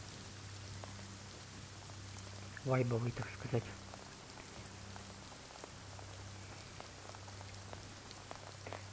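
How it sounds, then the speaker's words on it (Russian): Rain in a video game falls steadily with a soft, even hiss, while someone speaks briefly over it. "Смотрите, какой тут дождь."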